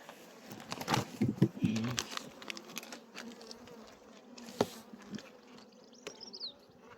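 Honeybees buzz around hives opened for inspection after winter, a close, uneven hum with individual insects droning past amid handling noises and occasional quiet voices.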